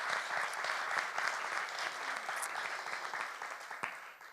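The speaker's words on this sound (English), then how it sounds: "A round of applause for her." Audience applause in a conference room at a women-in-communication professional event, honouring an award-winning female journalist; steady, dense clapping from a fairly large crowd throughout, moderately distant, with no talk over it.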